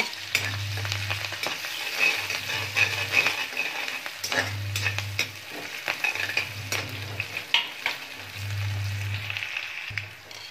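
Cumin, green chili and garlic sizzle and fry in hot oil, a steady close crackle broken by repeated low scraping strokes of a stirring spoon in the pan.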